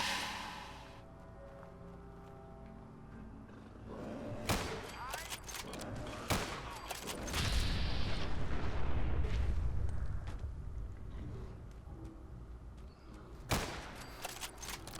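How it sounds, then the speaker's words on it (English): A PX4 pistol fires in the video game Fallout 4, a handful of sharp, loud reports spaced irregularly across the stretch, with a heavier rumbling burst in the middle and quiet ambience between shots. "Then we have the PX4 pistol. Sounds great."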